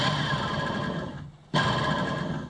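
A tiny battery-powered electric motor spins a propeller on a small boat under test, giving a steady buzzing whine that cuts out briefly near the middle and then resumes just as loud.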